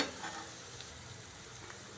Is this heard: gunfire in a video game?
no